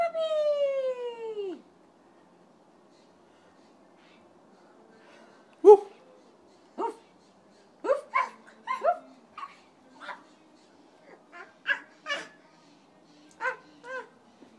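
A dog whines and gives a series of short, soft yelps and whimpers, scattered irregularly after an opening falling whine-like tone; fairly quiet and close.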